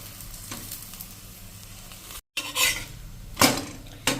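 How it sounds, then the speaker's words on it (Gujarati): A paratha roasting in ghee on a slow-to-medium flame sizzles quietly and steadily, with a few louder scraping and flipping sounds from a spatula partway through. "ગોલ્ડન બ્રાઉન જેવા આપણે આ પરોઠાને સ્લો ટુ મીડિયમ ફ્લેમ ઉપર રોસ્ટ કરી લેશું"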